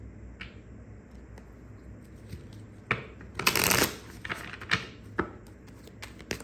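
A deck of romance reading cards is shuffled and handled, giving soft riffles and papery flicks that swell into a dense burst of card shuffling midway, with quieter taps before and after and no talk.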